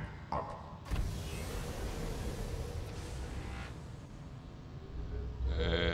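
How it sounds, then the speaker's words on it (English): Submarine engine powering up in the Subnautica video game, a rising mechanical whir after a sharp start, then a steady dense hum that swells again near the end. "Engine powering."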